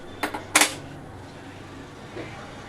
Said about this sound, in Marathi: लायटरने गॅस पेटवूया।